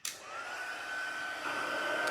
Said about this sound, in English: I love heat embossing